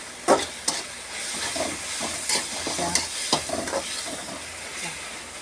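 Tomato chutney sizzles in a hot pan while a utensil scrapes and stirs it in several quick strokes, close and fairly loud.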